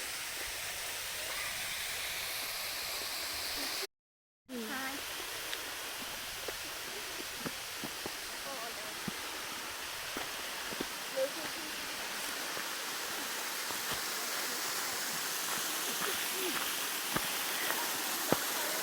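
Steady broadband rush of a waterfall in a clough, heard close and constant with a brief dropout early on, while people talk over it.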